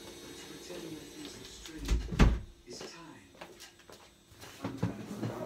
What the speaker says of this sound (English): I'll just shut the door.